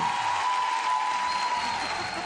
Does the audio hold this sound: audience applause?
yes